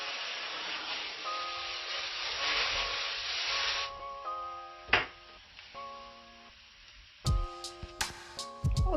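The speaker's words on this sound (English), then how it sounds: "so I'm just spraying 2 pans." Cooking spray hisses onto two baking pans in a home kitchen in a steady burst of a few seconds, followed by faint clicks and clatter from handling.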